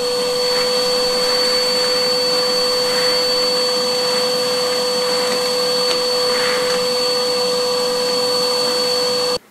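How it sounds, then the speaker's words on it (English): A vacuum cleaner runs loudly and steadily with a high whine, occasional rattles of loose masonry debris being sucked up in an old Spanish farmhouse, then cuts off abruptly at the end. "give it a good vacuum out."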